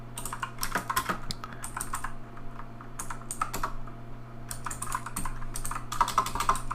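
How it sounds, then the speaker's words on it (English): Rapid, uneven typing on a computer keyboard, close and clear, with bursts of keystrokes and short pauses over a steady low electrical hum. "You can tell I'm used to typing my name."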